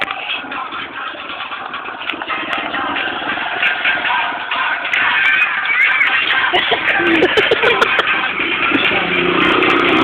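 A motorcycle engine runs steadily nearby with a rough mid-pitched drone that grows slightly louder midway, mixed with shuffling and background noise.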